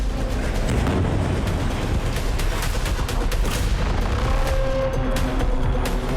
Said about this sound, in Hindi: विध्वंसक धमाका, जमीन को थर्रा देने वाली चोट, विनाशकारी आग का मशरूम क्लाउड